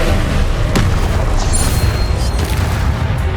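A Confringo fire-curse blast in Hogwarts Legacy, a loud, sustained booming roar with crackling bursts layered through it, filling the whole moment without a break.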